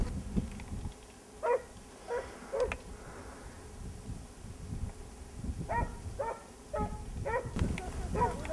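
Hunting dogs bark and yip in short bursts at a moderate distance outdoors while chasing foxes, their calls coming in scattered clusters with quieter gaps between.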